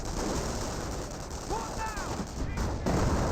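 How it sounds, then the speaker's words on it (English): A 25-pounder artillery barrage in Company of Heroes 1 rumbles as a continuous, distant wash of shelling and blasts, with a few whistling tones and a voice talking over it. "Yeah, there's a 25-pounder barrage there, or that is the actual barrage."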